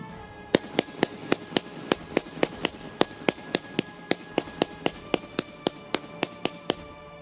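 A rapid string of sharp blank gunshots, about twenty-five cracks in steady rhythm with a slight ringing between them, loud and close with no talking.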